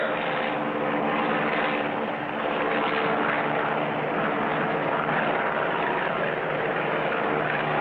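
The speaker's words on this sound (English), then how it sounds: "Folks, that plane is traveling at 100 miles an hour." Steady propeller airplane drone from a cartoon stunt plane circling at about 100 miles an hour during an aerial act, a continuous loud engine hum without breaks, no talk.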